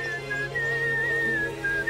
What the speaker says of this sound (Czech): Jo, ty si pískáš.